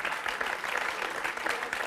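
A television studio audience claps briskly and continuously, a dense, moderately loud patter of hands with slight surges, heard without speech.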